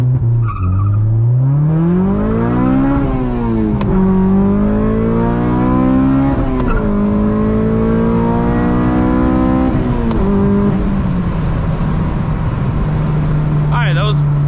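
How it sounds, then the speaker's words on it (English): A Honda engine revs and launches hard from a standstill, climbing through gears with rising and falling pitch, loud and continuous throughout. "I'm gonna show you guys the average Joe launch first"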